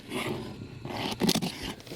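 A box cutter slices through plastic bags, a rasping, zipper-like scrape close to the mic, rising into a louder tearing rip near the middle before trailing off.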